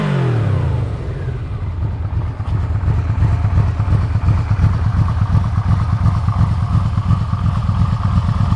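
A 2002 Yamaha VMAX motorcycle engine runs steadily and loud throughout, a low pulsing rumble after a brief rev at the start, with no talking.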